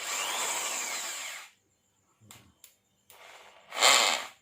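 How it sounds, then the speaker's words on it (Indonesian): A Ryobi hammer drill set to hammer mode runs in a steady, harsh whine for over a second, stops, gives two brief taps, then revs up again in a loud final burst. "kalau kita arahin ke gambar palu jadi dia bisa ngedrill"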